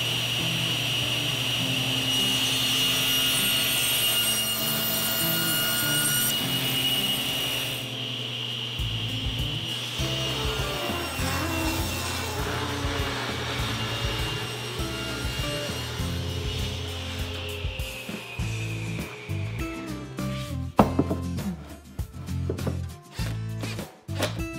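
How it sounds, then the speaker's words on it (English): Table saw with its blade tilted to 10 degrees ripping 3/4 by 1¼ inch wood stock into tapered molding: a steady loud whine and cutting roar for about twenty seconds, then the motor winding down among scattered clatter and knocks. "Now I'm going to change the angle of my table saw blade and make the tapered molding."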